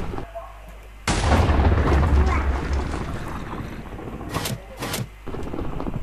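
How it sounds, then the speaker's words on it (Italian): A cannon fires in a video game: a loud booming blast bursts in after a quiet lead-in and rolls on as a sustained rumble, with sharper cracks toward the end. "Prendiamo le palle in mano del cannone. Tasto destro. Sentite che ha caricato. E ora si può sparare."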